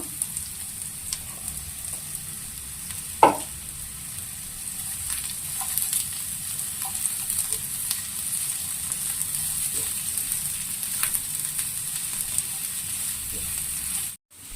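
Cabbage sizzles steadily in a hot pan while pasta is being made, a continuous close frying hiss with a few soft stirring knocks and taps throughout.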